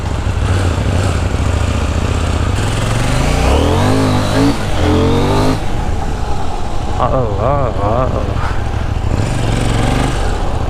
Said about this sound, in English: Bike has to warm up a bit before I open the throttle.